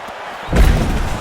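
A heavy body punch landing in the EA Sports UFC 6 fighting game, a single deep, close thud that swells suddenly and rumbles briefly.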